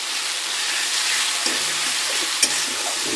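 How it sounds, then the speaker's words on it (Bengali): Spices for a chicken and potato curry fry in a pan with a steady broadband sizzle, while a spoon stirs them with soft scrapes and one sharper clack near the end; close and fairly loud, no talking. "ভালোভাবে নেড়ে যেতে হবে, কেননা তলায় মশলাপাতি ধরে যেতে পারে।"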